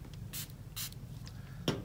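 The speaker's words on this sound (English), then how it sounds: "So you're going to give your glasses a little spray" Cleaner spray hits a pair of sunglasses in two quick hissing spritzes, close and soft, followed by faint rubbing and a small tap near the end.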